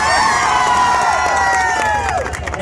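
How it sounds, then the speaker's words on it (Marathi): A loud crowd at a Narak Chaturdashi Narkasur event in Malvan claps and cheers for the Rajkot Boys, with high shouts and whoops ringing out close and continuous. "एका टाळ्यांचा गजर करूया राजकोट बॉईजसाठी"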